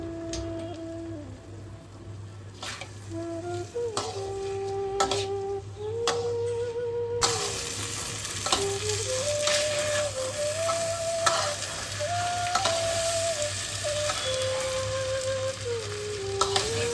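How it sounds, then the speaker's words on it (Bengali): Rice frying in a pan for pulao, a loud continuous sizzle with repeated scraping and clinking as it is stirred, while a sustained tonal hum runs underneath and shifts pitch throughout. "চালটাকে কিন্তু ভালো করে ভাজতে হবে।"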